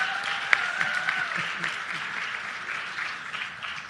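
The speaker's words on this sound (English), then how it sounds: "So let's all applaud him and wish him a happy birthday." Audience applauding at a book launch to mark a birthday, a sustained wash of clapping from a crowded room that slowly fades over a few seconds.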